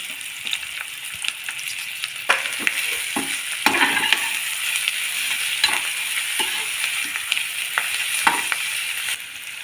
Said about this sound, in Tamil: இதையும் கொஞ்சம் அப்படியே வதக்கிக்கலாம் இஞ்சி பூண்டு சேர்த்துக்கலாங்க